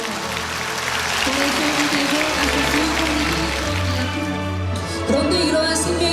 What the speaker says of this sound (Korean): 목회자들은 놀라워했고 큰 박수가 터져나왔습니다